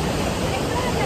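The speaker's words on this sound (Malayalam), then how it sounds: "അവിടുന്ന് വെള്ളം ഒഴുകി ചാടി ഇവിടെ ഒരു പാറ ഇടുക്കിലേക്കാണ് ഈ വെള്ളം വന്ന് വീഴുന്നത് കേട്ടോ" Athabasca Falls in Alberta pours into a deep rock gorge, a dense, steady, loud roar of crashing water with nothing else standing out.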